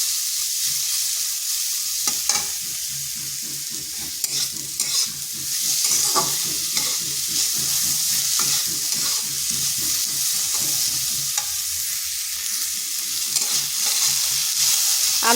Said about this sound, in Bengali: আলুটাও এইভাবে হালকা ভেজে নিচ্ছি